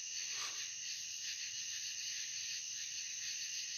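Tree frogs calling at night, a dense continuous high-pitched chorus of trills and chirps that holds steady throughout, fairly distant and even, with no talking.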